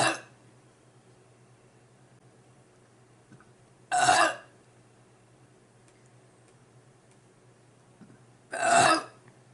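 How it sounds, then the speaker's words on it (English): Three separate loud burps from a person eating tempura shrimp rolls, spaced several seconds apart, each a short harsh belch close to the microphone against a quiet background hum. "I didn't think these would make me burp, but yeah, they're making me burp."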